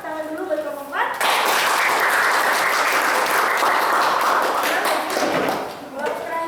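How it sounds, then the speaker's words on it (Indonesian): Classroom applause for a student group, with dense clapping from a full room that swells after a brief spoken lead-in, holds steady for several seconds, then fades as a voice resumes. "Tepuk tangan dulu buat kelompok 4"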